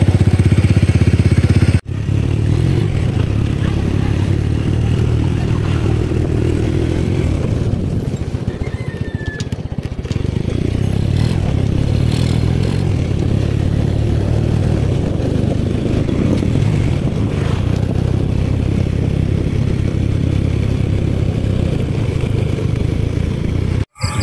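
A motorcycle engine runs steadily while riding toward town on a bumpy road, a loud continuous low drone with rattling clatter and occasional revving, close and without talk.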